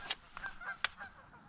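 Geese honk during an early-season goose hunt, a few sharp calls against quiet ambient noise, moderately distant and brief, with no talking.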